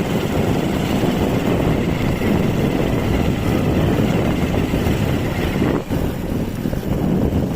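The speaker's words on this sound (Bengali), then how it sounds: "রাবার বাগানের ভিতর দিয়ে মোটর সাইকেলে যাচ্ছি" A motorcycle rides through a rubber plantation in Madhupur, Tangail, on a winter morning, with a steady engine drone buried under constant close wind buffeting for the whole stretch.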